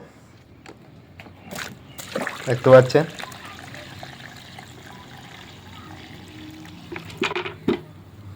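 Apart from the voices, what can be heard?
water poured into cattle feed mash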